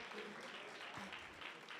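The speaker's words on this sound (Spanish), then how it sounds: "un aplauso para el compañero, por favor" Students in a school classroom applaud a classmate, a quiet, steady patter of clapping hands held at a low level throughout, with a voice briefly mixed in.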